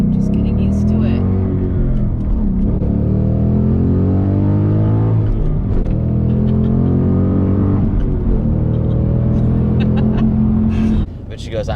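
A stock Ford Mustang GT engine revs and accelerates loudly from inside the car, its pitch climbing and falling in surges over roughly ten seconds, with occasional voices in the cabin.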